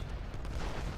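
Artillery fire in the Civil War strategy game Ultimate General: Gettysburg, a dense continuous roar of booming cannon blasts and rumbling explosions, loud and heavy in the low end, with no talking.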